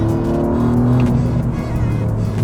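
A 2025 Alfa Romeo Giulia Quadrifoglio with an 8-speed gearbox drives hard on a fast, flowing race track. The engine drones loud and steady at high revs, close and continuous, with no talk over it.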